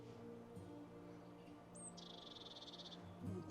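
Blue tit calling from a pine tree in spring woodland, a single thin high call followed by a quick trill, fairly faint against a low background hum.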